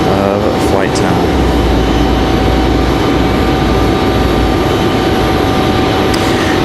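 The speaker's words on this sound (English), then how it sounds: "There's our A319." An Airbus A319 airliner at Raleigh-Durham International Airport produces a loud, steady jet roar with a fixed high whine and deep low rumble, nearby and continuous, with a voice speaking over it.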